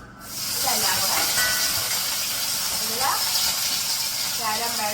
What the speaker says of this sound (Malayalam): കടുക് പൊട്ടി കേട്ടോ, നിങ്ങൾ കേൾക്കാനിട്ടായിരുന്നു.